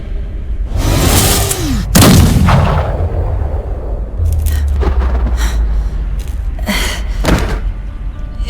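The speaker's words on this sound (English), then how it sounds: "The triple-barrel hand cannon got the job done just fine." A triple-barrel hand cannon fires in a Bombshell cutscene, delivering several loud, sharp blasts with heavy low rumbles and whooshes between them.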